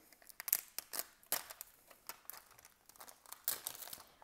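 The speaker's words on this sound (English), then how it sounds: "Hopefully I don't rip any off removing the tape here." Tape is peeled away from a sequined dollar store item in short, scratchy rips and crinkles, close and fairly quiet, with irregular bursts and pauses.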